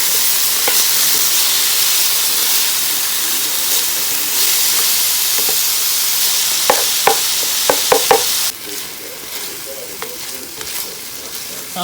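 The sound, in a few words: empanada picadillo filling with cilantro cooking down in a pan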